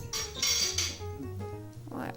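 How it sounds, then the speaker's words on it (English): A metal baking tin is handled and wiped dry in a kitchen, with sharp clanks and ringing metallic clinks at the start, then softer rubbing and a light knock. "I clean my baking tin because I will cook it in microwave, so I need baking tin. I clean and dry it."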